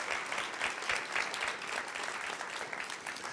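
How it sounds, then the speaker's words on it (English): Applause from the audience at a poetry recitation competition, a steady dense wash of many hands clapping together for a few seconds, no voices over it. "You give them one more round of applause."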